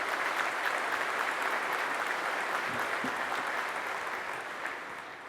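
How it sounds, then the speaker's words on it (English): Sustained applause from an outdoor audience at the Patriot Plaza dedication ceremony at Sarasota National Cemetery, a steady dense wash of clapping that tapers slightly toward the end, with no voices over it. "Let's give them a round of applause"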